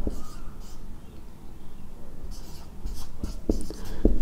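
Pen strokes scratch across paper while a maths formula is written, faint and close, with a few sharper taps near the end.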